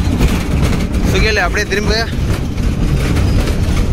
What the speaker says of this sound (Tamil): நம்ம இப்போ எதில் போகிறோம்னா ட்ரெயினில் தான் போகிறோம்.